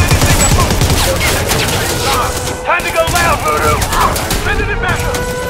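Gunfire in the video game Predator: Hunting Grounds, dense rapid shooting sustained throughout, loud and close, with game voices and radio chatter over it.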